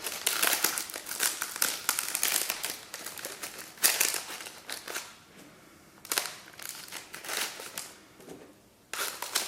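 Cellophane wrap crinkling and crackling while macarons are packaged into a gift tube, a close, irregular run of sharp rustling bursts with brief pauses between handling.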